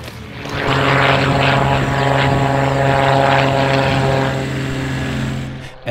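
WWII-era German, French and Italian propeller aircraft take off at an airshow reenactment, a loud droning engine roar that swells, holds steady with a strong tonal hum, then fades as they climb away.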